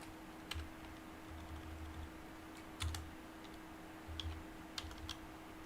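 Quiet computer keyboard typing, a few scattered key taps and short bursts of clicks over a low steady hum, close and soft.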